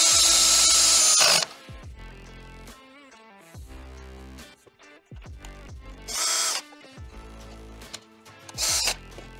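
A power screwdriver drives screws into an E-Props propeller hub, giving several bursts of close, whining motor sound with ratcheting clicks and tonal pitch sweeps between quieter pauses, with no talking.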